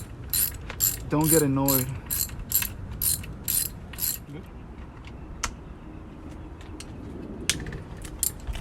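A ratchet clicks rapidly while loosening the bolts on a Th350 transmission, bursts of close, crisp ratcheting in quick succession with someone talking briefly over it, fading to sparse single clicks and a quieter workshop background.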